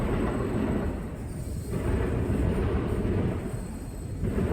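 A BNSF freight train rolls past with a dense, continuous rumble and roar that holds steady for several seconds, close by and loud, with no voices over it.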